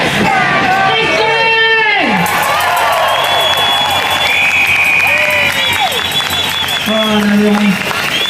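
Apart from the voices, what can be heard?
crowd applauding and cheering at a rally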